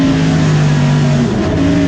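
A Boss Mustang race car engine roars loudly and steadily at Goodwood, a deep sustained drone that stays up close throughout with no pause.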